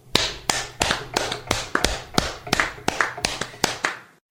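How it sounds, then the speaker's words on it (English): A small group gives a round of applause for a podcast guest, loud close-up claps in a quick uneven rhythm, about a dozen sharp hits, with no talk over them. "Let's give Alan a round of applause."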